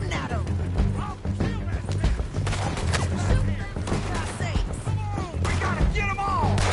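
Gunfire crackles in the video game Red Dead Redemption 2: a loud, dense fusillade of shots layered over game sounds, with voices talking throughout.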